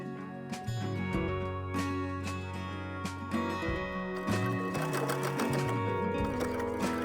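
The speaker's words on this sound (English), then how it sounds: "now I'm going to just take this over to my sewing machine and I'm going to sew it with a zigzag stitch" A sewing machine runs a zigzag stitch on clothing being upcycled, its motor whirring in steady bursts with rhythmic needle clatter, pausing and restarting close by.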